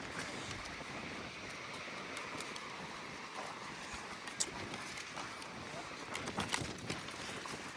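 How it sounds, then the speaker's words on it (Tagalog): Steady, broadband wind roars across the microphone throughout on a beach lot, with a few brief gusty bumps near the end. "Mahangin."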